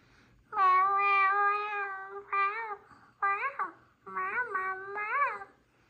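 A cat meows in a series of drawn-out, wavering calls, several in a row with short pauses, close and fairly clear.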